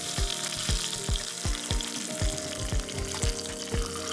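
Curry leaves and chili frying in hot oil for a Kerala kappa and fish curry: loud, steady sizzle with crackling and regular low thumps of stirring, close and continuous.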